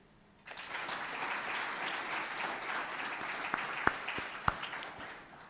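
Audience at a school speech day applauding scholarship students, a sudden burst of dense clapping that stays steady for several seconds with a few sharp louder claps.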